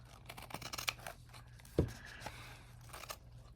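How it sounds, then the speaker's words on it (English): Scissors trimming the edges of lace, a faint run of small snips and crisp cuts with one sharper snip in the middle, close and quiet with no talking. "I'm going to trim off the edges."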